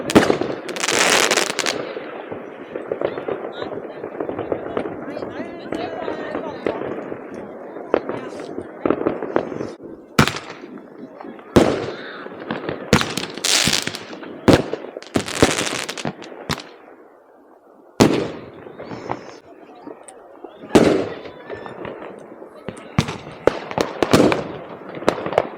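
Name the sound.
fireworks and firecrackers at New Year in Norway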